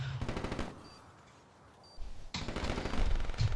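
Bursts of automatic gunfire from the Black Ops 3 video game in Arena Mode: a loud rattling volley, a short lull, then a second sustained burst to the end.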